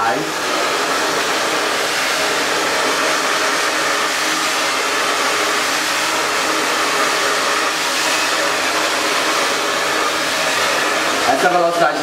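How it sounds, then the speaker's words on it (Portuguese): A household hair dryer roars steadily and loudly at close range, its airflow pitch drifting slightly as the motor speed rises and falls on its own, then a brief handling clatter near the end. "Essa velocidade do secador não sou eu."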